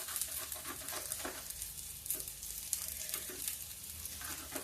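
Onions fry in a kadhai for sweet tomato chutney, a faint, even crackling sizzle with occasional light pops, heard alone at low level.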